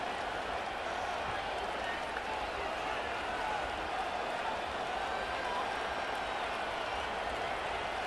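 A large video game stadium crowd in a Madden 25 Colts vs Packers game roars and cheers in a steady, dense wash of noise, loud and unbroken throughout.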